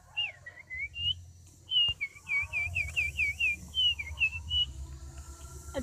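A performer imitates a morning bird call by voice and whistling: a long run of quick, high chirps and warbling trills in irregular bursts, close and fairly loud, over faint background noise.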